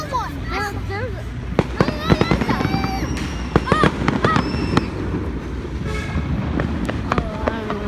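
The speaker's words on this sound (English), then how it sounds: "Fireworks!" Fireworks going off outdoors, a rapid run of sharp cracks and pops with whistling streaks, loud and near, while people talk and shout throughout.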